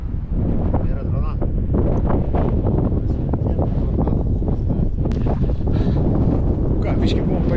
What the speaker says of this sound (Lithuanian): Toks vėjas sukilo